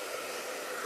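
A repaired hair dryer, which previously would not start and was fixed without new parts, runs with a steady close airy whir. A brief soft thump comes at the end.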